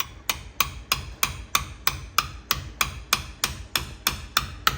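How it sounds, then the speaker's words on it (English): A hammer taps lightly on a socket to drive out a car's pilot bearing, about fourteen evenly spaced metallic knocks in a steady rhythm, close and clear with no talking. "So I'm just gonna tap it lightly with the hammer."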